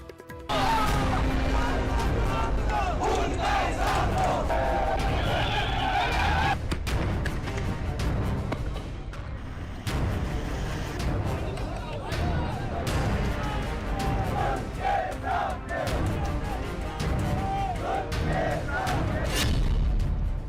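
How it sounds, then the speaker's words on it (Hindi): A large protest crowd in Pakistan-occupied Kashmir roars continuously, dense and loud, with shouting, clattering and scattered bangs overlapping throughout. "पीओके में 38 सालों में सबसे बड़ा विरोध प्रदर्शन हो रहा है"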